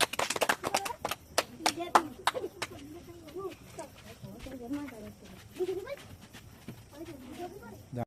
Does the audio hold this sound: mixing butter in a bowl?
no